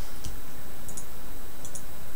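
Mouse clicks on Healbot unit frames in a game interface, a few sharp, quick clicks, some in close pairs, over a steady background hiss.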